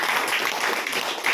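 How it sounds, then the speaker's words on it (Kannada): Audience applause at a Rotary Club Kolar charity event, a dense steady wash of many hands clapping for about a second, fairly loud with no speech over it. "ಭಗವಂತ ದೊಡ್ಡ ಚಪ್ಪಾಳೆ ಕೊಡೋಣ ಅವರಿಗೆ."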